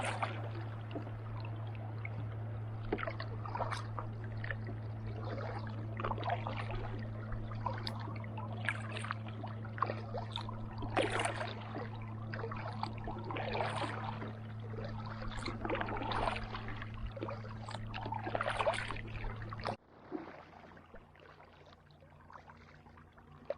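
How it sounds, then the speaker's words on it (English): Paddling a pack boat on a big Adirondack lake, with steady water splashes and paddle strokes over a constant low hum, close to the mic, ending abruptly near the twentieth second. "Rough paddling on these big lakes."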